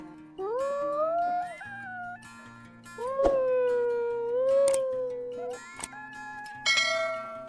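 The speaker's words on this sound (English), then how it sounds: "Whenever his older brother howls, Bluey has to howl too" A Chihuahua howls in long, rising and wavering cries, sustained through most of the clip, with a steady low tone underneath.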